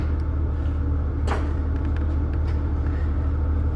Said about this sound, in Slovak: Auto sme poskladali a ako počujete, motor beží